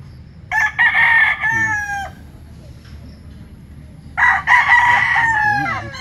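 An Allen Roundhead gamefowl rooster crows twice nearby, each loud call lasting well over a second, with a quiet gap between them.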